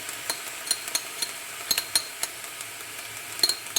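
Frozen vegetables with parsley being stirred in a pan, a spoon scraping and tapping in quick irregular clicks over a soft sizzle, close and without talk.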